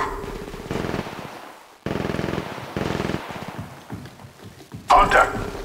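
Gunfire in the mobile shooter Apex Legends Mobile, several loud rapid bursts of automatic shots separated by short pauses, with a voice speaking near the end.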